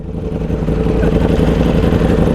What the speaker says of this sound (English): Ducati V4S! It's loud, dude, it's loud.